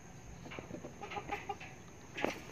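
A hen clucks in short, soft bursts at close range in a quiet farmyard setting, with a few sharper clucks toward the end.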